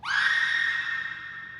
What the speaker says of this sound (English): I threw in this scream here